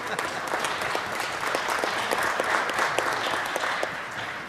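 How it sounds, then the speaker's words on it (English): Audience at a city council meeting claps steadily in a round of applause, moderate and continuous with scattered sharp individual claps, no voices over it. "Let's give her another round of applause"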